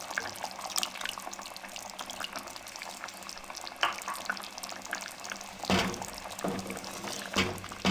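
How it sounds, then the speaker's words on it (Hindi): Water poured into chicken chana gravy frying in a pot for Lahori-style murgh chanay, a steady watery splashing and sizzle lasting the whole stretch, with a few louder surges near the end. "इसकी भुनाई के लिए हम थोड़ा सा इसमें और पानी इसमें डाल देंगे"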